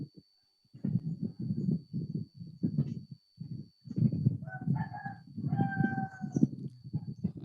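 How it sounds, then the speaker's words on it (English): A rooster crows outdoors in the distance, with repeated drawn-out calls under steady, low-pitched wind noise and rumble; a faint constant tone also hangs in the background. "I can hear a cockerel"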